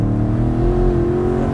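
A BMW M8 Competition Cabriolet's twin-turbo V8 pulls hard at full throttle on a snowy road, a loud, close engine drone whose tone rises steadily, with no talking over it.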